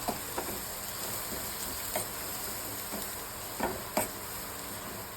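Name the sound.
sautéing asafoetida and coriander leaves in a pan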